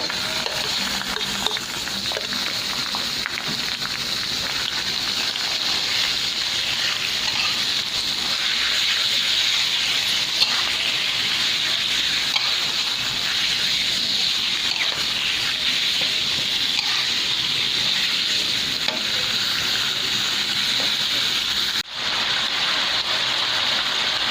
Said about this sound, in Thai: เดี๋ยวเฮามาผัดหมูต่อเลยค่ะ